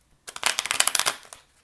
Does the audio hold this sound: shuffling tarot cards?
yes